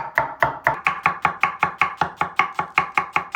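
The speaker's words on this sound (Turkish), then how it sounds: "Bir tane orta boy soğan doğrayacağız." Rapid, steady knife chops through an onion on a cutting board, about four strikes per second, crisp and close, with no voices.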